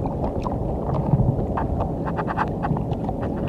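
Strong wind sweeps over open water during a fishing outing as a whirlwind approaches, producing a continuous low roar and rumbling buffets against the microphone.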